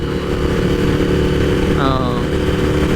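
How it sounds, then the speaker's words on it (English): A Suzuki SV1000S V-twin motorcycle engine runs at steady high revs, a loud continuous drone close by, with a brief rising tone partway through. "that high revving V-twin of the old school AMA superbike world"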